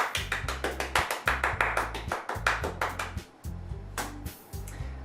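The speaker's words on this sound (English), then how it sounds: "The four of us applaud." Applause sound effect from the Doki Doki Literature Club video game: repeated bursts of several hands clapping in quick rhythmic runs, close and crisp, pausing briefly between rounds, with no voices.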